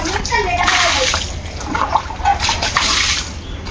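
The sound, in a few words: water splashing from a small bucket while washing a car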